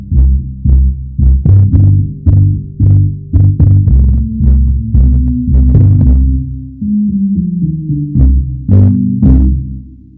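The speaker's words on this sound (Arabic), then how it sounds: "صوت في المنطقة ما بين 20 زبزبة في الثانية إلى 300 زبزبة في الثانية." Deep, muffled low-pitched music filtered to the 20 to 300 Hz band, all brightness stripped away, leaving only bass notes and dull thuds pulsing in a steady rhythm.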